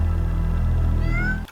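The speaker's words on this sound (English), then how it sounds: "Oh, the cat." A cat gives a loud, close, drawn-out meow lasting just over a second, rising in pitch near the end before cutting off.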